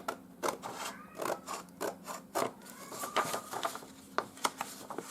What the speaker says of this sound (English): I'm just going to cut this white edge off.